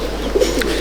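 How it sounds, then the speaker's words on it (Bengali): Madrasi pigeons in a loft at Dattapukur give a single soft, brief coo close by, over a quiet low background hum. "আরেক জোড়া পায়রা"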